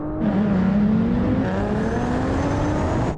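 Porsche 911 Turbo S, BMW M8 and Nissan GT-R accelerating hard side by side in a drag race, a loud sustained engine roar climbing steadily in pitch through the gears, with no talk over it.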